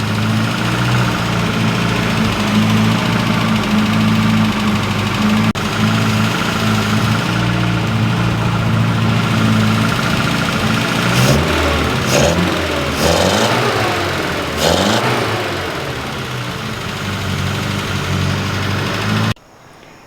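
An MG Midget engine, restored and ready for testing, idles steadily and loudly up close, with a few brief revs as the throttle is adjusted, then cuts off abruptly at the end.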